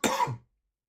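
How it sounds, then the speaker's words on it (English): A single short, rough cough, close and fairly loud, cut off quickly and followed by silence. "This cough, man, guys, it's relentless."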